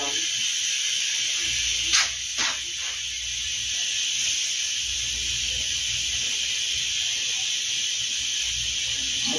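Continuous high, steady hiss of steam escaping a pressure cooker on the stove cooking bean soup, with a couple of brief sharper bursts early on and faint background noise beneath.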